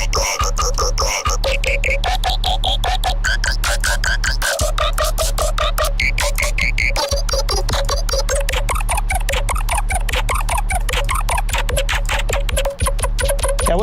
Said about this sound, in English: Some spectral glitches we have here as well.